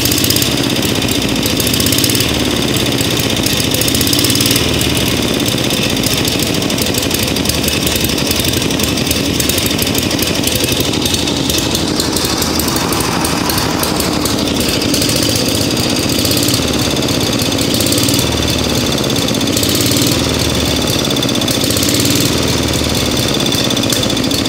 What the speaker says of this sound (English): This thing could probably sit here and putt along just like this all day.